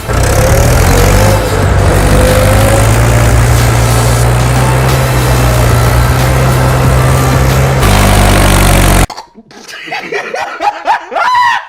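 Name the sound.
tractor engine running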